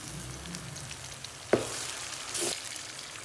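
Tomatoes go into a pan of frying onions and goat liver kaleji, setting off a sharp sizzling burst after a quiet hiss, followed by a second softer flare of spitting oil.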